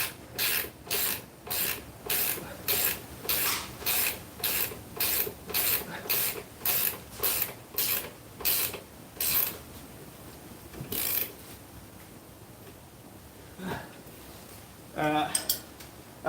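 A ratchet tightens parts in quick repeated strokes, a steady rhythmic clicking rasp of about twenty pulls at close range, then scattered metallic clinks and handling noise.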